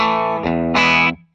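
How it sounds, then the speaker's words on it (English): Electric guitar played through a dry amp with the delay and reverb switched off, with a slightly driven tone: a sustained chord, a brief lower strum, then a brighter ringing chord that cuts off abruptly, close and loud with no lingering tail. "just running the dry amp again so you can kind of hear that"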